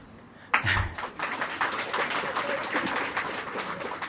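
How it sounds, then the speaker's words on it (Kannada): An audience breaks into sustained applause at a Kannada lecture, with dense clapping starting suddenly after a quiet moment and continuing steadily, fairly loud, with some murmuring mixed in. "ಯಾಕೆ ಅಂತ ಕೇಳದೆ ಚಪ್ಪಾಳೆ ಹೊಡೆದಿದ್ದೀರಿ"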